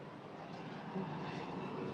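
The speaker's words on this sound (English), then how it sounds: "Oh, here comes another plane." Airplane passing near a new airport control tower: a broad steady roar of engine noise, dense and fairly loud throughout, with no voices.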